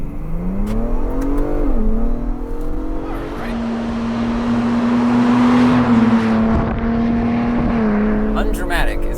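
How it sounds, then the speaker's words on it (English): A Ford Bronco Raptor's engine climbs in pitch and holds a loud, strained rev during a brake stand on dirt, then surges forward with tire noise; someone talks over it. "I will do a brake stand, brake boost, building some power"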